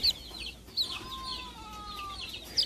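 Chickens clucking in short bursts with a thin rising call, fairly faint against a quiet farmyard background.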